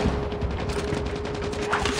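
Rapid gunfire from shooting an enemy in a video game rattles loud and continuous, a dense burst of shots with no pauses and no voice over it.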